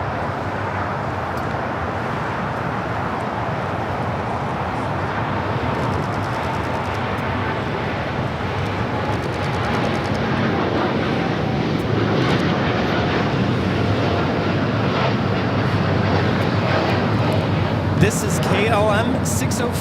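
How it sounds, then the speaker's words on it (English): A KLM Boeing 787-10 Dreamliner in the 100 years livery, departing LAX for Amsterdam, roars steadily through its takeoff. The broad engine rumble holds loud and continuous throughout and builds gently toward the end. "KLM 604 taking off to Amsterdam on the 787-10 Dreamliner in the KLM 100 years livery."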